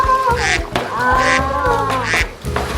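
A human voice imitates a duck for a paper puppet, giving loud, close, repeated quacks in a steady rhythm.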